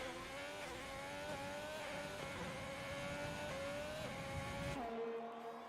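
A Ferrari race car engine in a racing video game, set at the Belgian Grand Prix, drones at high revs with steady pitch and brief shifts, then drops away near the end.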